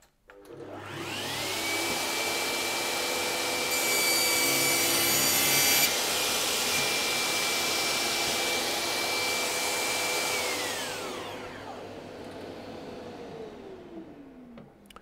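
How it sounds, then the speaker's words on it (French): A Festool TKS 80 table saw with SawStop technology spins up to a high steady whine, bites through wood with a rough grinding rasp, then winds down and stops. "procéder à une petite démonstration de coupe pour simplement montrer les fonctions marche-arrêt de la scie"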